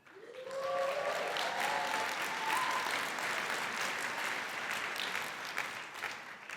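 Audience applause at the Intuit Connect 2025 keynote, a steady, moderately loud wash of clapping that holds for several seconds after a brief musical tone at the start.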